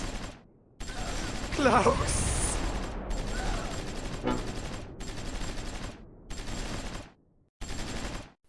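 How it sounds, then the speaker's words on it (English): Heavy gunfire in the World War II video game Close Combat 4, Battle of the Bulge at Houffalize: dense bursts of rifle and machine-gun fire in rapid volleys, broken by short silent gaps, with a voice shouting over it. "Wir erliegen unter schwerem Beschuss!"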